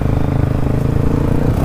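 A 250cc dirt bike ridden on a dry mud track makes a steady, loud engine drone with a continuous throaty rumble and no pauses throughout.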